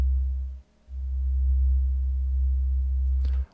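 A synthesizer triangle-wave oscillator on channel 2, tuned to -2, sounds a loud, steady low tone that drops out briefly near the start, then resumes and holds before cutting off.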